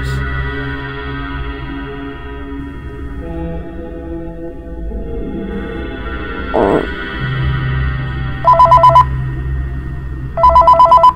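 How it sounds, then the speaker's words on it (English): A telephone rings in two short bursts near the end, layered over a steady Minecraft Five Nights at Freddy's 3 map soundtrack with low droning music and a brief thump midway. "What's that ringing noise?"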